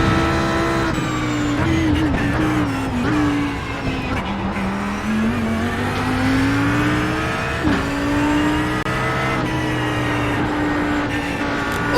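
Audi GT3 race car engine in iRacing at Laguna Seca, a loud continuous roar rising and falling through gear changes, with downshift dips and revs climbing again, running steadily throughout.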